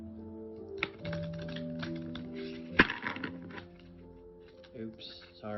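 Tarot cards shuffled by hand, giving several quick rustling and flapping bursts close up, with a louder snap near the middle, under a steady hum and a person talking.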